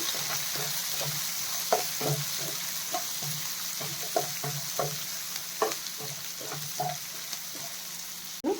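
Chopped onions frying in a pan, a continuous soft sizzle with regular stirring taps and scrapes from a utensil, close and fairly quiet.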